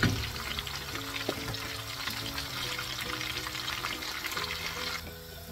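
Dal lentils frying in oil for homemade bazaar-style nimko, a steady close bubbling sizzle running without pause before easing slightly near the end, with no talking.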